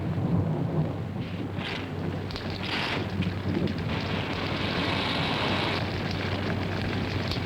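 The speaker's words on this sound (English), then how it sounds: "I think it would be foolish to go out in such a storm." A steady, loud downpour of heavy rain beats on throughout, with deep rolling thunder swelling beneath it and gusting wind, no voices heard.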